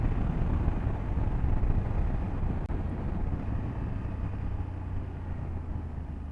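A 2024 BMW F 800 GS motorcycle rides along with a steady, dense engine and wind rumble, loud and unbroken throughout, with no talking.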